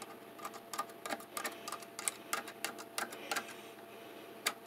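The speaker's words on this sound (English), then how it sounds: "I can very slowly work this nut." A wrench slowly works a nut loose on a rustic stump chair, producing a steady series of close, crisp metallic ticks and clicks at an uneven rhythm, with no talking.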